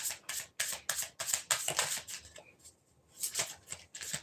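Tarot cards being shuffled close up, a run of quick riffling bursts and soft card slaps with a short pause partway through, no talking.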